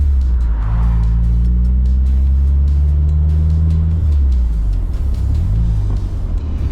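A Mitsubishi DSM car with a transmission grinding on shifts drives along loudly, with a deep engine drone and rumble that rises and falls in pitch as it changes gear, heard from inside the car.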